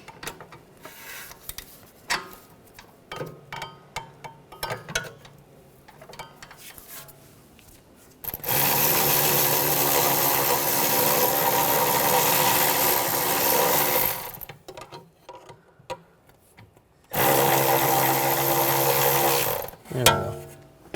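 A power tool spinning a bolt into the rear forward upper control arm of a 2009-2013 BMW 328i xDrive, with scattered clanks of handling, then two loud sustained whirring runs, the first long and the second shorter, close up.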